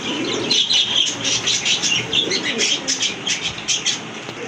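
Pigeons kept for sale, fresh birds with pink beaks, give soft cooing calls mixed with wing flutters and chirps, close by in a rhythmic series of pulses.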